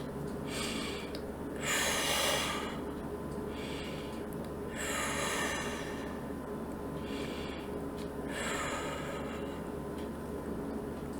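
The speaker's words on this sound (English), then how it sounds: "Take 3 deep breaths." Several slow, deep breaths, each a soft airy rush in and out, come close and quiet against a faint steady background during a calm relaxation exercise, with no talking.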